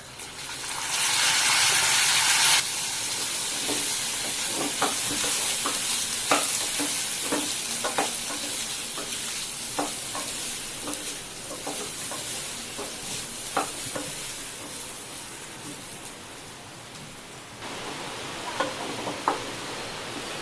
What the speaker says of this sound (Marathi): हा एक वाटी बासमती तांदूळ आहे तो आता आपण ह्या तुपावरती परतून घ्यायचा आहे